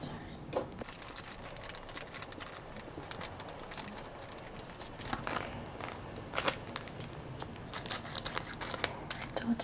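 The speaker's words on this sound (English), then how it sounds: "I just use my scissors." Scissors snip and crinkle through thin nose strips up close, producing sharp intermittent cuts and rustling over a faint steady background hum.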